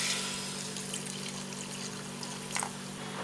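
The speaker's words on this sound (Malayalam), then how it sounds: "കുറച്ച് വെള്ളം ഒഴിച്ച് കൊടുക്കാം." Water is poured into a pot of cut ripe mango pieces cooking for mango kalan, a steady close hiss of pouring with no voices.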